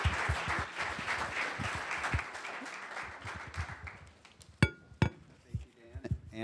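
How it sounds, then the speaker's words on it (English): An audience at a keynote event gives the competing teams a round of applause, a dense wash of clapping that thins out, followed by a few sharp, sporadic loud claps and knocks near the end. "Let's give all those teams one more big round of applause."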